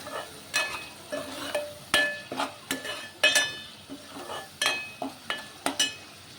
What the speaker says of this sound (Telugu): టమాటా ఉల్లిపాయ బాగానే వేగిందండి నూనెలో